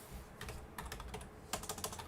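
Quiet, close clicking of keys on a computer keyboard, typed in short irregular bursts with small pauses, no voices.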